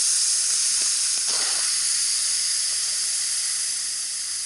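A pressure cooker cooking deer burger outdoors at dusk vents steam in a loud, steady hiss that holds for several seconds without a break, with no talk over it.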